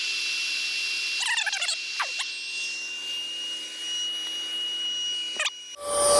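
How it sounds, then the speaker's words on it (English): A Vogma 50PSI electric paddle board pump deflating a board, drawing air out with a steady high whine and shrill squealing chirps early on, ending in a rising rush as the motor note shifts near the end. "I'm gonna turn it on so that it will vacuum all the air out"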